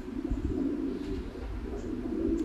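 Pigeons at a breeding farm, paired birds in their nesting cages, give a steady low cooing that hums on continuously over soft background noise, with no talk.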